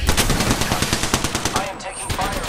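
Rapid video game gunfire rattles off in quick, even bursts, close and loud, with a brief pause near the end before the shooting resumes.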